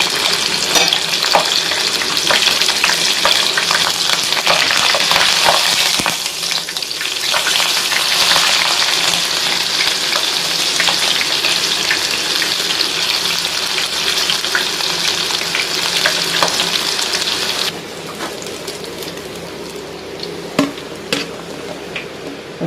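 Green chilies fry in hot oil in a pan with a loud, continuous sizzle for a spicy flattened rice mix, and light stirring clicks come through the hiss before the frying quiets near the end.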